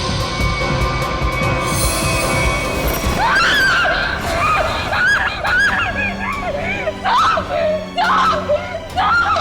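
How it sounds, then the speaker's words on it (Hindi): A woman screams loudly in a series of shrill, wavering cries that rise and fall over several seconds, breaking into repeated bursts above a noisy background. "इतनी जोर से क्यों चिल्ला रही है?"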